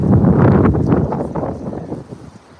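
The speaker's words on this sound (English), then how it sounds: "Gust of wind, hopefully you're staying put." A gust of wind buffeting a microphone outdoors, a loud rumbling rush that peaks early and fades over a couple of seconds, with no speech.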